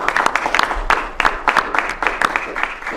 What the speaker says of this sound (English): Oh, Pence is clapping